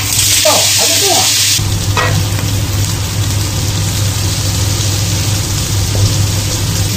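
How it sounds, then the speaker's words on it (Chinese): Silkworm pupae stir-frying in a wok with only a little oil give a loud, steady sizzle throughout, with scraping stirs near the start and a low hum underneath. "直接下锅炒，爆还在动啊！"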